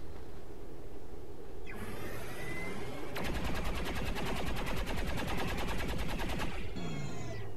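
XCOM 2 combat with soldiers firing on Advent troops: a sustained, rapid burst of loud automatic fire lasting several seconds, framed by sweeping, whooshing weapon noise before and after.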